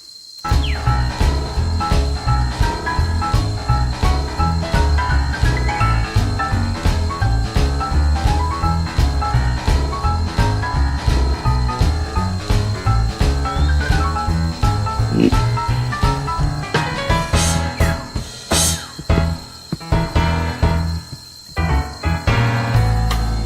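Crickets chirp in a video game ecosystem, a dense, loud, continuous chorus of rhythmic insect trills layered with ambient game sound, thinning out near the end, with no talk.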